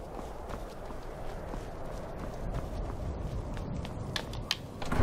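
Horse hooves clip-clopping at a steady walking pace in Skyrim, near and moderately loud over a continuous outdoor ambience, with a faint brighter knock near the end.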